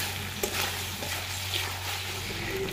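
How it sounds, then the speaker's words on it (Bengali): Chicken being stir-fried with ground cumin paste in a village kitchen pan, a steady soft sizzle with light stirring scrapes, continuous and close, no voices. "সেই বাটা জিরেটা দিয়ে দেব, দিয়ে আবারও কিছুক্ষণ কষিয়ে নেব"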